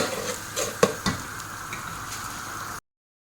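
Masala stock cubes are stirred into food frying in a pan during Ramadan home cooking: a steady close sizzle with a couple of sharp spoon knocks against the pan, no talking, then abrupt silence.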